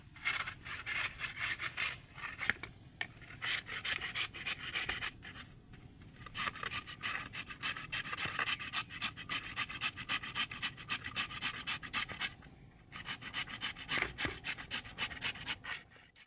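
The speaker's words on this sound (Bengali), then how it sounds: "আলুটাকে আমি এরকম একটা ছোট গ্রেটারের সাহায্যে গ্রেট করে নেব" Raw potato being grated on a small hand grater, a close rhythmic rasping scrape repeated in rapid strokes with a couple of short pauses, with no talking.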